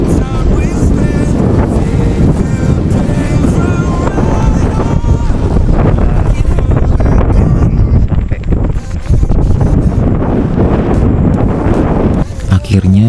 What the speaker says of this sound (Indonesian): Anginnya kencang banget, parah.